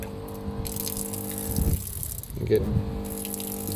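An on-board water supply pump pushing a steady flow of water, a continuous gushing and splashing with a low rattle, fairly quiet, as someone speaks briefly over it.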